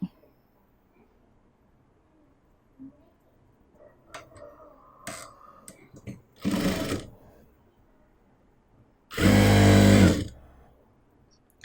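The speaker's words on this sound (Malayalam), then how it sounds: "അപ്പോൾ നമ്മൾ ഇതുപോലെ ഈ ഭാഗം സ്റ്റിച്ച് ചെയ്തെടുത്തു" A sewing machine stitches the side seam of a kurti in two loud bursts, a shorter run followed by a longer sustained one, with quiet handling clicks and rustling between them and no talk.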